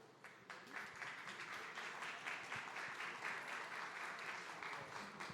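An audience claps at a Rising Stars and Academy panel event, a continuous even wash of applause heard at a distance and fairly quiet throughout.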